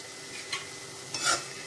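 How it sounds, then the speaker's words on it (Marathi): A spoon stirs tomato bhaji mixed with roasted peanut powder and salt in a pan over low heat, producing two brief scraping strokes over a soft, steady sizzle, heard close up with no voices. "सर्व आता हे आपण मिक्स करून घेऊया"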